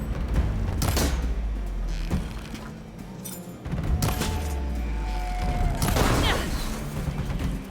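Gunfire and impacts against machines in Horizon Forbidden West, a dense stretch of repeated shots and thuds over continuous game sound and music, with several louder bursts spread through the clip.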